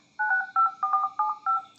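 A Xiaomi Redmi 12C phone dial pad sounds six crisp keypad tones, each a short two-note beep, evenly spaced and close to the phone, with a quiet background.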